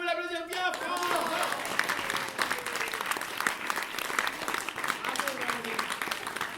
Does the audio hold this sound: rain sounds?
no